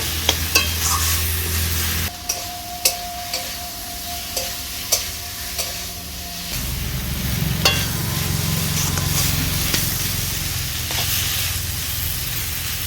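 Spinach greens with chilli powder and cumin powder are stirred in a sizzling pan, a spatula scraping and tapping in irregular strokes over steady frying hiss, close and with no talk.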